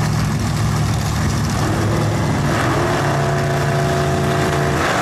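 Two 1956 Chevrolet classic cars launch off a drag strip starting line, their engines droning loud and steady as they pull away, with a rising whine as they accelerate.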